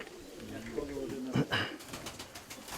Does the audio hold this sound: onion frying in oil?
no